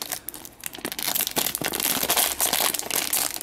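Crinkly plastic crackles and rips close by, a continuous busy rustle of a packet being pulled and torn open, with no talking.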